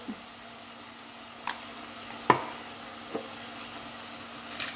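Ground beef simmering in a creamy sauce in a frying pan is stirred, giving a steady soft sizzle with a few sharp scrapes and taps of the spoon against the pan.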